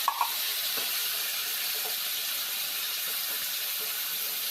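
Paneer frying in hot oil in a kadai gives a steady, even hiss of sizzling that runs throughout, with a couple of small clicks at the very start.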